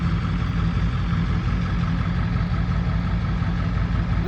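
Farm tractor engine idling close by, ready to unload pallets from a trailer: a steady, loud low rumble that holds evenly throughout with no voices.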